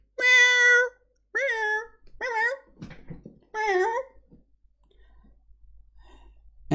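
A cat meows several times in short, clear, close-up calls with pauses between them, followed by a few softer trailing sounds and quiet near the end.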